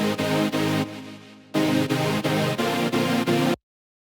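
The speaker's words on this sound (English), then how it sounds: "Layered in is another synth, just like the main one, but this time it's low pass" Low-pass filtered sawtooth synth layer in a future bass drop, with reverb and delay, playing rhythmic sustained chords in short pulses, one longer dip partway through, then a sudden stop.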